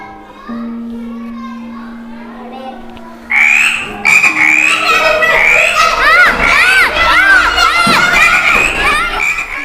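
A frog croaks during a classroom sound quiz, faint at first, then loud, rapid, rippling croaks swell after a few seconds while children shout and cheer over them.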